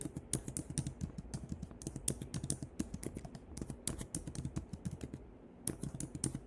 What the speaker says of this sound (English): So we're just going to type that here.